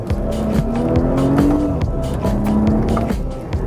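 A BMW 840i Gran Coupe with the twin-turbo 4.4-liter V8 from the M8 accelerates, its engine rising in pitch, dropping on a shift, then climbing again, loud and close, with a brief tire squeal.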